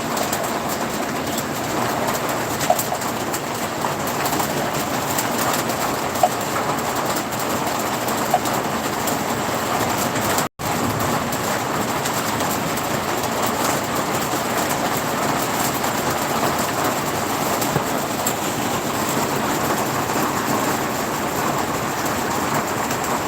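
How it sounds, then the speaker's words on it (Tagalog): Heavy rain pours steadily beside a home terrace, a dense, even broadband roar that runs unbroken for the whole stretch, with only a brief cut partway through and no talking. "Lakas ng ulan guys."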